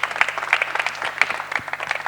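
A studio audience applauds on a TV talk show set, a brief, dense burst of close clapping with no speech over it.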